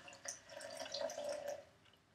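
Water poured over coffee grounds, a faint, close trickle with light scattered drips, brief and quiet with no voices.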